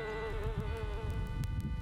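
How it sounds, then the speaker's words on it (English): A close, steady insect buzz drones continuously with a wavering pitch, bees hovering nearby on a lavender farm. "Buzzing bees sip the nectar."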